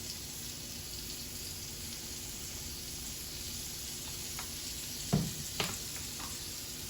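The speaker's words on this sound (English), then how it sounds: "We're just trying to sear the outside so we can really lock in those juices" Chunks of beef seasoned with seasoning salt, black pepper and garlic powder sear in a hot pan for pot roast, giving a steady close sizzle with a couple of brief knocks near the end, no talking.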